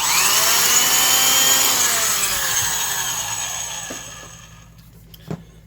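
A Black & Decker Super Duty 5/16-inch D-handle drill whines at high speed, then its pitch slides down as it winds to a stop, ending in a few light knocks.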